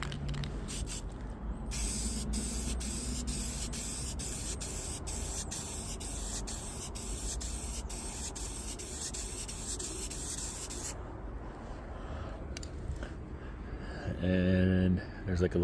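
Black spray paint is misted onto a ceramic tile in one long, loud, steady aerosol hiss lasting about nine seconds. It stops abruptly, followed by quieter handling sounds and a short burst of noise near the end.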